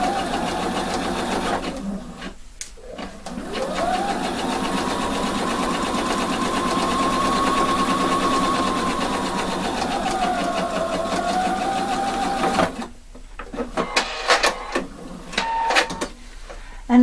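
Sewing machine running a French seam, a loud steady motor hum and rapid needle rattle held for about ten seconds. Shorter stop-start bursts follow near the end.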